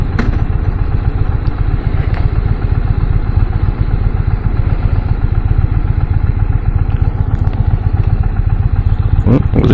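An Indian Dark Horse motorcycle idles in neutral close by, its low engine pulse running steady and unbroken for about ten seconds, with a faint thump near the end.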